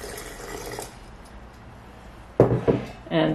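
Water poured into a homemade mustard mixture of ground seed and pink Himalayan salt, a short splashing pour near the end after a stretch of quiet room noise.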